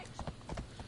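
Horse hooves clip-clop in Assassin's Creed Odyssey, a few quick uneven steps on stone near a temple, heard close and moderately loud with faint game ambience around them.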